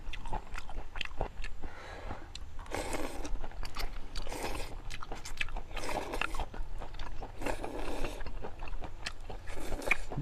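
Close, loud slurping and chewing as a rural man eats big mouthfuls of homemade noodles with two side dishes, wet sucking bursts and crunchy bites repeating steadily throughout with no talk.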